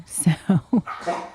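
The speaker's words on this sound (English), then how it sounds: "I'm sorry, that was my puppy." A dog that still looks like a puppy gives three quick, sharp barks indoors. A person speaks briefly before and after them.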